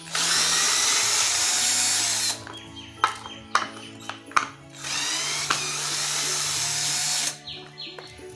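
A GAOCHENG GC-CL12V cordless drill drives a screw into wood at slow speed, with two long, steady, close motor whines separated by a pause of sharp clicks and handling knocks.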